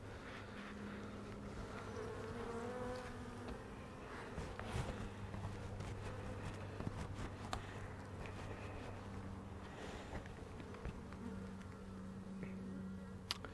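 Honeybees on a brood frame from a tiny swarm hum and buzz continuously at close range, a low droning texture with occasional louder passes and faint handling rustles.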